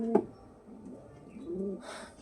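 A Giribaz pigeon, a desi high-flying breed, gives a soft, quiet coo with a short low burr at the start and a longer rolling note near the end.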